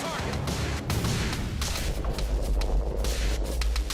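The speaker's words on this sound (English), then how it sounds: "I feel bullets flying from everywhere." Dense gunfire in the video game Quantum Break comes as a loud, continuous barrage of shots and impacts with a heavy low rumble and no pauses.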